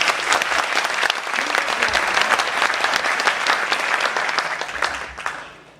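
Audience applauding steadily and densely at a Korean political launch event for a national coalition, sustained clapping from a full room that fades out at the end.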